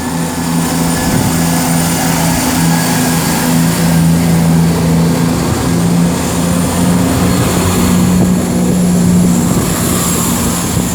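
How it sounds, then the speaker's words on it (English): A Pendolino electric train from London Euston to Manchester Piccadilly passes at Tamworth on the West Coast Main Line, a steady loud rumble with a sustained low hum throughout, heard alone without talk. "I think I can hear a Pendolino."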